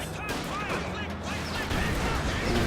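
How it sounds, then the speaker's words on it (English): A mortar half-track is destroyed under gunfire in Company of Heroes 2, a dense wall of battle noise with rattling shots and booming impacts, loud and continuous. "Mortar half track goes down."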